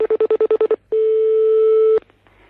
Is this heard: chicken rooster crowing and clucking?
no